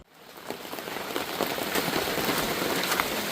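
Steady rain falls on a tarp and the surrounding surfaces, building to a dense, even hiss with scattered nearby drops, no voices.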